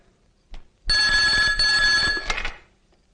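An old-style telephone bell rings in one sustained, loud burst of electric jangling after a brief knock, then falls silent.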